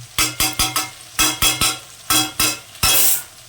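Spice paste frying in a pan, stirred with a spatula in quick rhythmic strokes that land as a series of sharp scraping clanks over a faint sizzle, with no voices.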